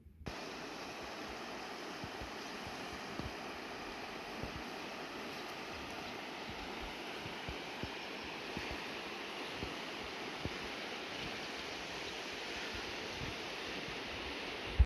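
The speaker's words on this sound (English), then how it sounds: "So I just got a little snippet here of the river to show you." A river flows outdoors in a steady, faint broadband rush of water, continuous and alone with no voices.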